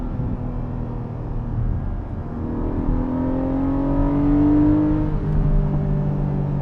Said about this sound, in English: Man, I missed the flat 6 in this.